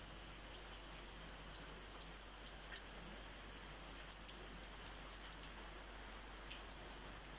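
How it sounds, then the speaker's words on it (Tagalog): Rain falling steadily beside a hotel swimming pool in Menorca in winter, a soft, even hiss with a few faint drip ticks, no voices. "Maulan."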